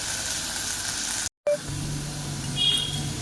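Potatoes sizzle steadily in a hot pan after salt is added, a close, continuous frying hiss with one brief dropout to silence midway.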